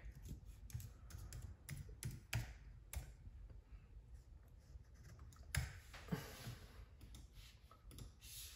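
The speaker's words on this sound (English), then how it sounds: "you type in the password that you would normally type in to log into your computer" Rapid clicking keystrokes on a Mac computer keyboard as a password is typed, quiet and close, in irregular bursts with a few louder taps, no voices.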